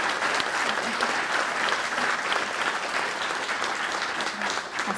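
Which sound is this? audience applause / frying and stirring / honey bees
audience applause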